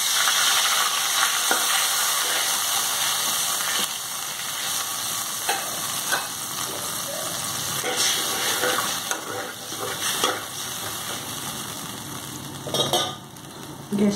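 Soya chunk (Nutrela) curry in a hot pan with a splash of water added, giving a loud, steady, hissing sizzle throughout with occasional clinks and stirring scrapes of a utensil.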